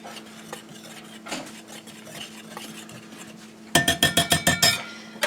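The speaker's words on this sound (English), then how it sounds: "I'm just going to give it a little bit of a whisk." A whisk stirs flour, baking soda, spices and salt in a bowl, first as a soft scraping swirl and then as a run of quick, rhythmic clinks against the bowl near the end.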